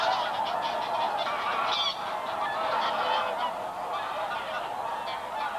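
A large flock of greylag geese and other wildfowl honks continuously on the Volga delta, a dense overlapping chorus of calls that carries steadily throughout with no talk.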